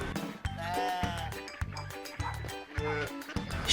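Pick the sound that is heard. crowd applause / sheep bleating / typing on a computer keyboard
sheep bleating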